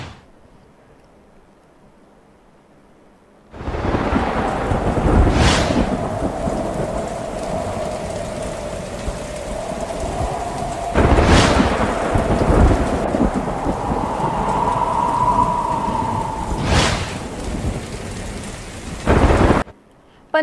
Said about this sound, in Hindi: मौसलाधार बारिश ने नशीबी इलाकों को डुबो दिया